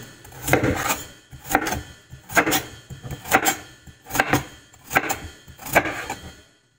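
A knife chops sweet potato or potato on a board in about seven sharp, evenly spaced strokes, each a crisp close thunk with a woody rasp, steady and alone with no talking.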